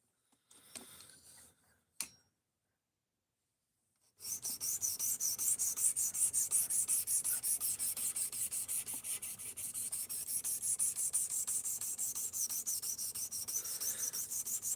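A few light taps and a pause, then a knife is drawn repeatedly across an 800 grit sharpening stone, close rasping strokes in a fast, even rhythm that continues to the end.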